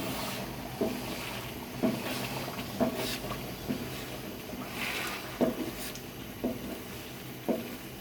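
A spoon stirring halwa in a pot after hot water is added, with regular soft scraping and squelching strokes roughly once a second over a low bubbling sizzle, close and fairly quiet.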